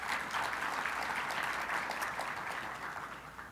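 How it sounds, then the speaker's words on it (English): An audience gives sustained applause for the sponsors of the 2018 Darcy Lecture, a dense, even wash of many hands clapping at a steady level that eases slightly toward the end, with no talking. "So let us all give a round of applause to our sponsors."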